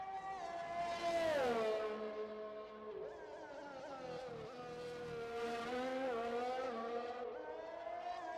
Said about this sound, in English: The McLaren is the only car out on track.